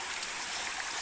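The Kayo river flowing steadily, a broad, even rush of water with a constant hiss and no distinct events, heard alone without speech.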